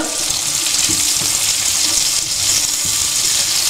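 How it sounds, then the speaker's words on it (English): Garlic sautéing in a pan for a Maltese broad bean appetizer makes a loud, dense, continuous hiss of sizzling oil, heard close up and steady from start to end. "Saute this for about another minute, keeping an eye that your garlic doesn't burn"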